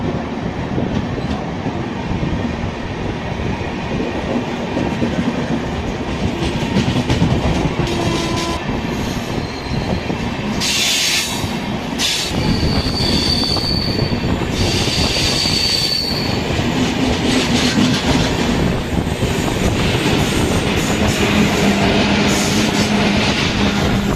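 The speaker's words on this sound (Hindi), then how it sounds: "ये सामने से एक ट्रेन आ रही है, शायद ये इंटरसिटी या एक्सप्रेस ही होगी" An intercity or express train passing close on the railway, a loud, continuous rumble with clattering wheels and high squeals throughout, steady and dense for the whole stretch.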